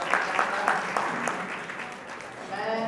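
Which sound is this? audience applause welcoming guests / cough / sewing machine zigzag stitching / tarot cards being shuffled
audience applause welcoming guests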